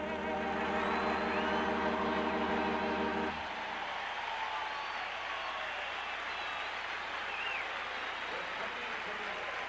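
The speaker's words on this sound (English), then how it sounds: "The rhythmic clapping beginning." A crowd of over 50,000 at a 1980 Astros–Dodgers baseball game in Los Angeles breaks into a broad, distant roar of clapping after the national anthem, following a closing sustained musical note.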